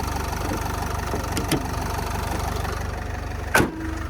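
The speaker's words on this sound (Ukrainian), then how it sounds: "Та робота мотора працює відмінно." A 2012 Renault Trafic passenger van's 2.0-litre Euro 5 diesel idles steadily with a low, even rumble, interrupted by a couple of sharp knocks and one loud thump near the end.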